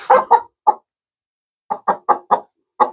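A hen clucking in short, sharp bursts as her eggs are taken, a quick cluster of loud close clucks, a pause, then another rapid series, with no talk.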